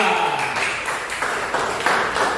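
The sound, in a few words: class clapping for group 2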